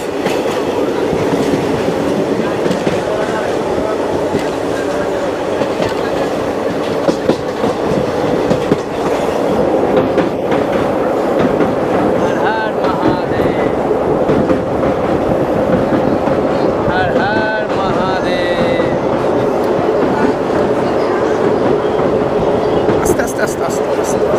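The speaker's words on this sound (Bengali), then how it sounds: "এখন আমরা ট্রেনে করে পার হচ্ছি ভারতের অন্যতম ঐতিহাসিক ও সুন্দর পাম্বান রেল সেতু।" A train rumbles steadily across the Pamban rail bridge, with rhythmic clatter of wheels on rails, loud and continuous throughout, with faint voices in the background.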